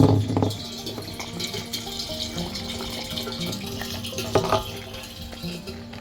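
Water pumped from a creek through a hose pours steadily into a container, a continuous close splashing gush with small rattles and knocks, no talking.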